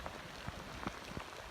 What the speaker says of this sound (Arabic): شوف البرد كيف.